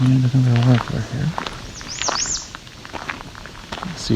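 Common yellowthroat and another warbler call outdoors at Otter Lake, several short high chirps and a pair of rising call notes, fairly faint, after a brief voice and amid light footsteps and rustling.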